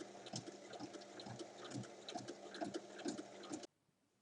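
A sewing machine topstitching along a bag zipper, a steady fast mechanical stitching rattle running close and continuous before stopping abruptly.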